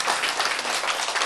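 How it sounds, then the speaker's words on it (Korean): Applause from a church congregation during a Korean sermon on autoimmune disease, a dense steady patter of many hands clapping at once, fairly loud and unbroken for about a second. "박수"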